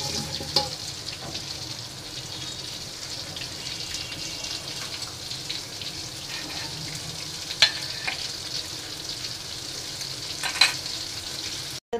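Prawns sizzle in oil in a wok with a constant crackling hiss up close, broken by a few sharp clinks of stirring, and no voices.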